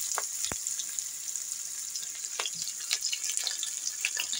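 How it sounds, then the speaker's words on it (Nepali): Cumin seeds and onion frying in hot oil for a Nepali potato and bamboo shoot curry, giving a steady close sizzle with scattered sharp crackles and pops. "अब यसमा जिरा पड्केपछि प्याज हाल्दैछु।"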